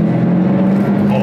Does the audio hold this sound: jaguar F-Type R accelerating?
yes